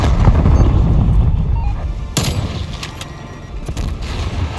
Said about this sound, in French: Je lance une frag.